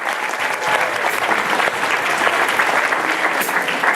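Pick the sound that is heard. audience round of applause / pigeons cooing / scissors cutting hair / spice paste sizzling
audience round of applause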